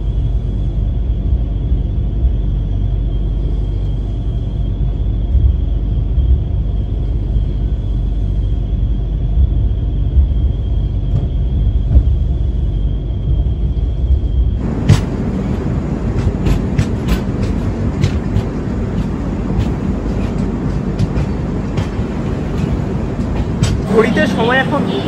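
A train arriving at Tirupati railway station fills the air with a deep, constant rumble from the carriages. Partway through the scene shifts to a brighter, busier station ambience with clatter and voices.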